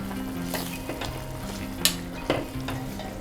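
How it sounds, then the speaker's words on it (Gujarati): Dhokli being stirred gently into boiling guvar (cluster bean) curry, a few soft scraping spoon strokes with brief clinks over a low bubbling simmer, close and fairly quiet. "અને ત્યારબાદ હળવા હાથે તેને મિક્સ કરી દઈશું"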